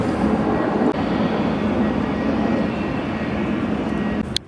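Airplane passing overhead near the old Capitol and Senate buildings, a loud steady broadband roar holding for several seconds with a brief dip, no talk over it.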